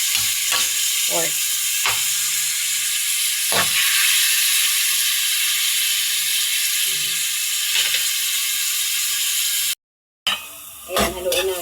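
Pork sizzles in a hot pan for bitter melon adobo while a utensil scrapes and stirs it in repeated strokes, steady hiss throughout, followed by a brief gap and some louder clatter at the end.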